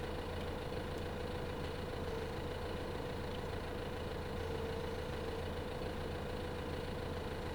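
Tractor engine in Farming Simulator 2015, hauling a heavy log load in a forestry job, gives a steady low droning rumble with a constant hum throughout, no talk over it.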